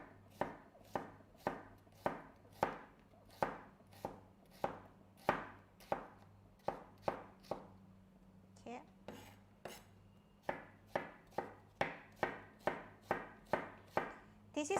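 A knife chopping a medium-sized onion on a board for chow mein, a fast, steady run of crisp close thuds, roughly two per second, with one brief pause midway and no voices.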